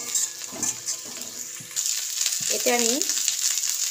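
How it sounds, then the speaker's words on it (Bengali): Shelled peas sizzle and fry in a pan for chicken rice, a steady close hiss with a couple of stirring scrapes, while someone speaks briefly over it. "আর ছাড়ানো মটরশুঁটিও দিয়ে দেব। এটা আমি ভালো করে ভেজে নেব।"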